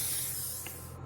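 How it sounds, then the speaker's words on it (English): Cooking spray hisses into a 9 by 13 baking pan in one steady, fairly close burst lasting about a second, fading near the end. "Now we're spraying a 9 by 13 pan."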